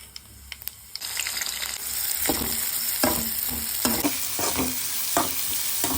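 Mustard seeds, cumin, green chilies, onion and curry leaves sautéing in a pan for a rava tiffin dish, a soft sizzle under repeated spoon stirs and scrapes that grow busier after a quiet start, no talk.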